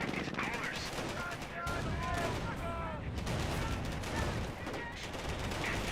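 Dense, continuous small-arms gunfire crackles in a Company of Heroes battle, overlapping rapid shots with game voices speaking over the din.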